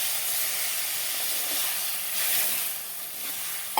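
Steady steaming hiss from half a glass of water poured over hot mhadya, a Satara-style dish, in a pan on the stove; the broad sizzle holds constant for a few seconds with a small swell near the middle and a brief tap at the end.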